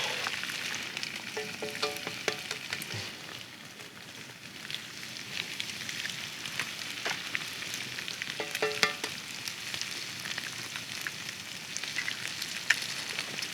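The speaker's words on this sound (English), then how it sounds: "I'm just gonna go ahead and add my eggs. Just throw them right over the top." Eggs fry in a cast iron pan over a campfire, with a steady close sizzle and crackle and occasional scraping stirs and clinks.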